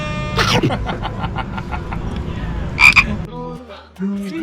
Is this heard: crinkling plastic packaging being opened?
no